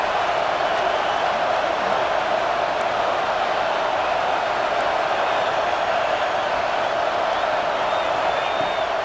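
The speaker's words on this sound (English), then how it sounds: "This crowd bringing the energy and noise early." A steady, dense roar of a large crowd in a college football video game, Florida vs Florida State, constant and unbroken throughout, like a packed stadium heard from within.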